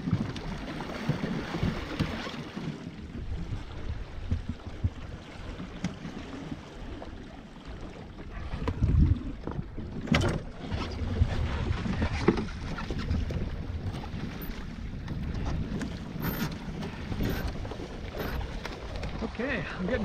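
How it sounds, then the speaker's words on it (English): A small sailboat with a skimming disc ama sails on the Chesapeake Bay, with steady water rushing and sloshing along the hull under buffeting wind noise, and a voice talking intermittently. "Okay, I'm getting better at sailing this thing."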